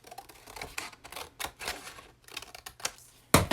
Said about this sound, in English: I'm just going to take my scissors and chop off that edge.